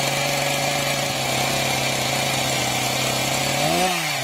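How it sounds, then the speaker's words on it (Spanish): A chainsaw runs at a steady, loud, droning pitch throughout, then briefly revs and drops near the end. "La idea de ir con la motosierra al aire parece un tanto peligrosa"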